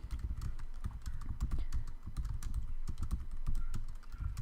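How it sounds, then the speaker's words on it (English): Rapid typing on a computer keyboard, with irregular clusters of close, crisp key clicks and thumps that run continuously with no talk. "And if I came down here and started typing,"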